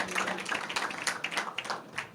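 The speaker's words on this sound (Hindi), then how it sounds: "हाले तालियों के साथ प्रभु को हम धन्यवाद करेंगे।" A church congregation claps along during a Hindi-language worship service, giving a steady run of fairly close, overlapping hand claps across the whole stretch, with no voices over them.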